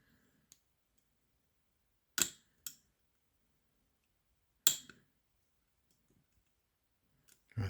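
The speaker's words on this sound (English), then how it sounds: "Lots and lots of little clicks with serrated pins." Sharp, scattered clicks from serrated pins being picked in a Yale Superior lock with serrated drivers and T-pin key pins, a few loud snaps separated by quiet gaps, close up and with no talking.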